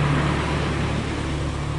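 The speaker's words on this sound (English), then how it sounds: "It's going to be a loud truck going by." A loud truck passes close on a road, a dense, steady engine roar and tire rush that holds throughout with a low droning hum.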